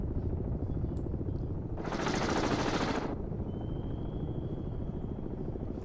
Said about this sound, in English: That was a good damn drop from the helicopter.